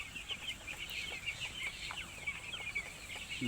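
Broiler and Sonali chicks crowd a wholesale chick market, giving off a constant, overlapping chorus of high-pitched peeps from many birds at once, steady and moderately near.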